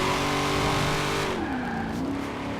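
Car driving in the Forza Horizon 4 video game, a sustained engine drone with a brief tire squeal and a pitch dip as it shifts, close and loud throughout, no talk.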